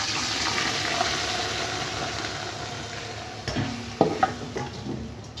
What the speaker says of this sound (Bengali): এই পর্যায়ে আমি চালটা দিয়ে দিচ্ছি।